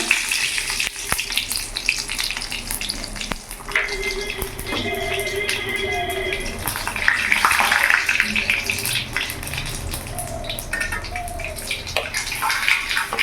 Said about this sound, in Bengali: তেল গরম হয়ে গেছে এখানে আমি একটা তেজপাতা আর এখানে ওটা দিয়ে আমি ফোড়ন দিয়ে দিলাম